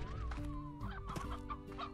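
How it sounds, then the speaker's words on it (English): Chickens cluck repeatedly in the Slime Rancher video game, a busy run of close, bright clucks over a steady droning musical background, with no talking. "Chickens!"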